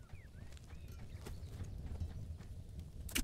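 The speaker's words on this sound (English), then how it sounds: "Is that a horse?" Horse hooves clip-clop at an even walking pace in the video game HEAT, soft and somewhat distant against a low ambient background, with no talk.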